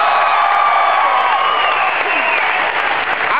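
Festival crowd at Bonnaroo 2007 clapping and cheering for a comedian's set, a loud, continuous wash of applause with whoops from a large audience, sustained and gradually easing.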